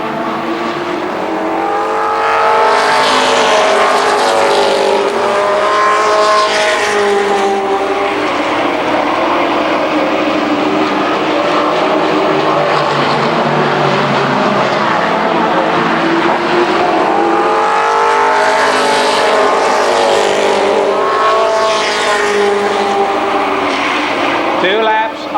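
Stock race cars roar down the backstretch at Columbus Motor Speedway, a loud sustained engine wail that swells and fades as the pack passes and comes around again, with an announcer calling the race over it.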